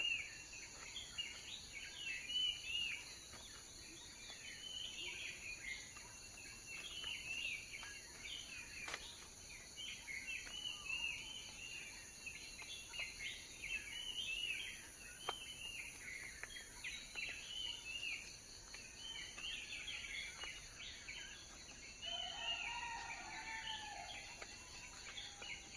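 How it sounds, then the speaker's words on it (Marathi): Several birds chirp and twitter repeatedly around a quiet rural agro-tourism centre, faint and somewhat distant over a steady hiss of background ambience, with no talking. "वेगवेगळ्या पक्ष्यांचा वेगवेगळा ध्वनी ऐकायला मिळेल"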